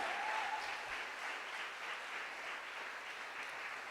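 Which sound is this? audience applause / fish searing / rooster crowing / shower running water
audience applause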